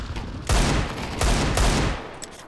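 Automatic gunfire in a first-person shooter video game rattles out in two loud, dense bursts with a short gap between them, close and harsh, then tails off.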